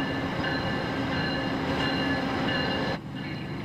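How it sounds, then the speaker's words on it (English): Via Rail passenger train at Windsor station, a steady loud rumble of rolling cars with faint wheel squeal, dropping off abruptly near the end. "It is a Via rail train."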